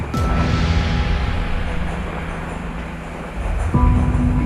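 A loud Baku metro train rumbles steadily through Koroğlu station, with a low mechanical hum and a brief rising whine near the end.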